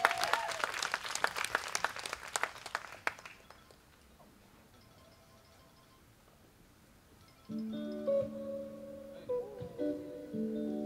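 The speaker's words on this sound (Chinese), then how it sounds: "给我们的掌声好不好？" A live concert audience claps for a band for about three seconds, then the applause thins and dies away into quiet before soft musical tones begin.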